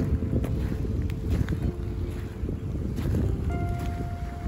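Wind buffets the microphone at Wu Kai Sha beach in Hong Kong, a steady loud low rumble with faint gusty fluctuations throughout.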